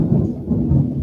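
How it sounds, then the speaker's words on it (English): Low rumbling thunder rolls continuously through a brief stretch, deep and fairly loud, with a steady rain-like wash over it and no talking. "you hear that thunder?"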